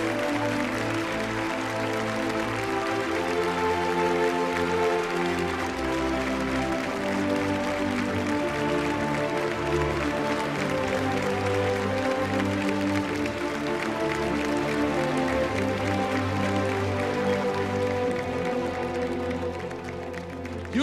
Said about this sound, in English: Huge round of applause again for Sanjana